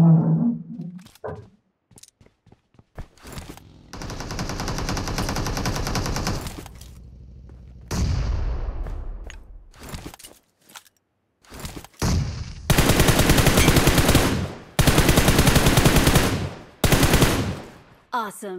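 Bursts of automatic gunfire and single shots in a video game, loud and close, alternating with short gaps and brief voices.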